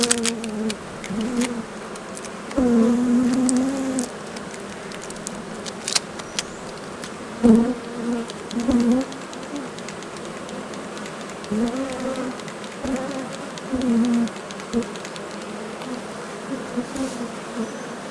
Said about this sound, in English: Call this a troublemaking hive.